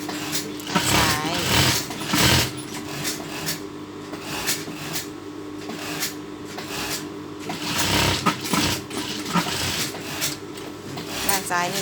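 A sewing machine runs steadily, stitching a seam along a fabric edge without pins, its fast mechanical whir loud and close in long bursts that pause briefly and restart, with someone speaking over it throughout.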